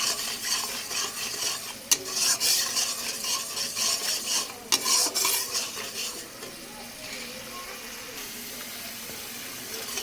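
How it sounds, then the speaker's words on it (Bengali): Mustard-based spice paste with salt being sautéed and stirred in hot oil in a pan for a paneer and pointed gourd dorma, with steady sizzling, a couple of sharp utensil clicks and scraping strokes, close up and without talk. "এটাকে এবার আমি ভালোভাবে একটু কষিয়ে নেব"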